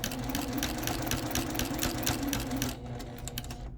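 A sewing machine runs steadily at close range, stitching facing onto the edge of a mini quilt at a 2.5 stitch length, its rapid needle chatter holding an even pace before it eases slightly near the end.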